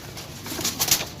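A pigeon coos softly at a bird sale in Jhelum, Pakistan, a low murmuring call under rustling and background noise, with no talking.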